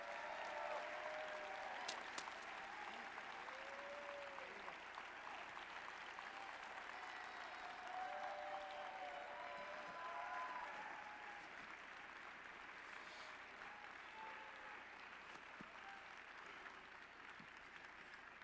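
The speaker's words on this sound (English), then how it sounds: "Let's give a big round of applause for Dana Henry." Steady crowd applause for lead robot inspector Dana Henry at a robotics competition event, a broad, even wash of clapping sustained throughout at moderate distance.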